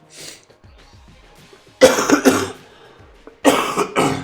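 Harsh coughing in two loud bursts separated by a pause, preceded by a softer throat sound, with a clear double-hack rhythm in each burst and no other voices.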